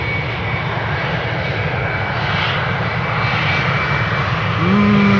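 A KLM Embraer 190 jet, about fifteen years old, departs from a large airport runway, its engines a loud, steady broadband roar that swells slightly near the end.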